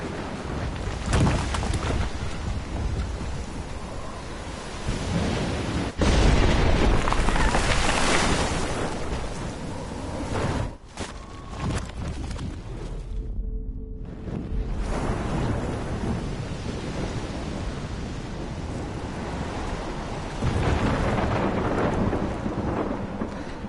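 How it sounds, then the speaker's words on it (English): A heavy thunderstorm with steady pouring rain and rolling thunder rumbles in the Oregon setting of the video game Life Is Strange, loud and continuous with a brief lull midway. "I've never seen a storm like this in Oregon."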